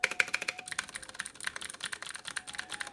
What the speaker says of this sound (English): it is the most satisfying click. It's got Cherry MX Blues.